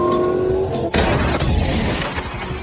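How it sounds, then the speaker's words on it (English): Car crash from a drama series, a sudden loud smash with breaking glass cutting off a steady engine drone, followed by a lingering scrape and debris rattle. "Their car crumpled on impact."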